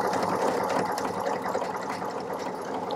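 A Pfaff Ambition 610 sewing machine runs at speed, a close, steady rapid whirring and stitching chatter that holds evenly throughout without talk.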